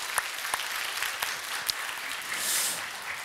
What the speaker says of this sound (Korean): 박수로 한번 올려드리십시다.